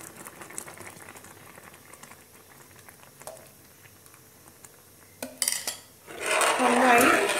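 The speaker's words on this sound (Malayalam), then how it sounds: "ശർക്കര ചേർത്തിട്ട് നന്നായി തിളച്ചുകൊണ്ടിരിക്കുന്നുണ്ട് ഉരുളിയിൽ" Jaggery payasam bubbling in a bell-metal urali, a soft low simmer through most of the stretch, then sharp metallic clinks of a utensil and a louder, rushing boil near the end.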